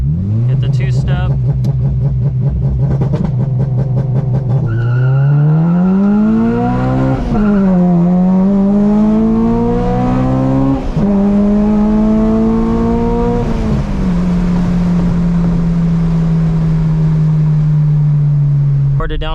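An Acura RSX Type S holds a steady two-step rev, then launches hard for a 0-60 run. The engine climbs loudly through the gears with clear pitch rises at each shift and stays close and dominant throughout.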